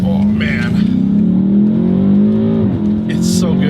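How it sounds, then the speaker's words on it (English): A 2022 BMW M8 Competition's engine and exhaust drone loudly and steadily from inside the car, the pitch sagging slightly and then dipping, with no talk over it. "the exhaust is so loud on this, the engine is so loud on this"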